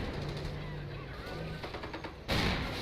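Machine gun fire from an emplacement during a Company of Heroes 1 battle in Paris, a continuous rattling burst under low rumbling battle noise, ending in a loud, louder blast-like surge.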